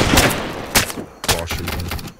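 Gunfire shoots through a wall in a video game: several close, loud bursts of rapid shots separated by brief gaps, with no talk.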